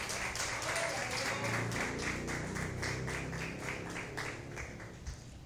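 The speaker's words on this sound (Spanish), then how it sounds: "Le damos un aplauso a Dios en esta hora." A church congregation claps together, dense rhythmic applause, loud and sustained, easing slightly toward the end with no clear speech over it.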